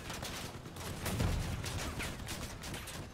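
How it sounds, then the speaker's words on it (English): Rapid gunfire from vehicle weapons in the combat game Crossout, a dense crackling barrage with a heavier burst of low booms in the middle, continuous and fairly loud throughout. "You're getting sniped from everywhere."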